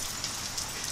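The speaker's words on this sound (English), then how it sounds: "I know it's raining." Steady rain falls outside in a yard, a soft, even hiss of drops filling the whole moment, faint and continuous with no voices.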